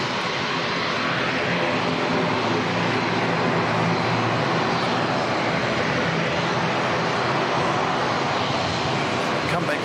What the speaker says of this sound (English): A sneaky ATR pulling out from the China Eastern.